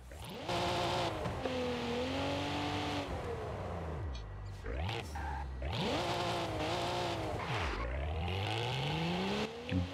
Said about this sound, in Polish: Ale dźwięk z wydechów, słuchajcie.